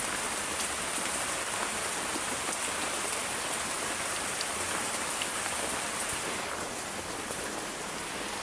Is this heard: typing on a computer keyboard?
no